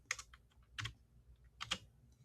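Quiet bursts of typing on a computer keyboard, three short clusters of light key clicks with brief pauses between them, close and alone.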